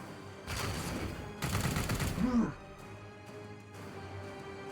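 Bursts of gunfire in the video game Warhammer 40k Chaos Gate: Daemonhunters, two loud volleys of rapid shots, with someone talking over them.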